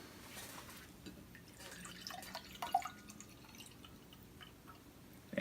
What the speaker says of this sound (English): So pour the OJ in there